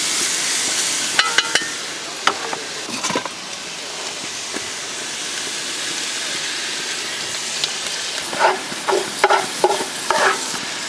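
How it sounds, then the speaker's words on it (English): Onion and bacon sizzling in a little oil in a pan over a campfire-style bush setting, a soft continuous frying hiss with a few clinks and stirring clatters, no talking. "onion and beautiful bacon sizzling away in there in a little bit of oil"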